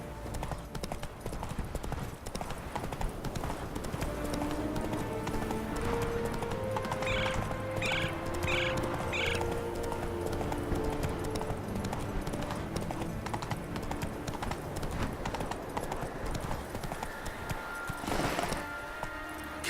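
Roach the horse gallops in The Witcher 3 with rapid, continuous hoofbeats, a snort or whinny partway through, and steady game ambience underneath, close and fairly loud.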